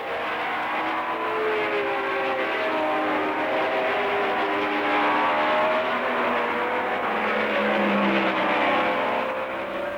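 A 1964 Formula 1 race car accelerating at the British Grand Prix, its engine a steady, loud, droning roar with gently rising and shifting tones held throughout.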